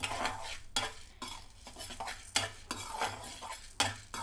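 Turkey berry chutney ingredients are stirred in a pan, with repeated scraping and clinking of a utensil against metal, spaced irregularly over a light sizzle, close and moderately loud, with no talking.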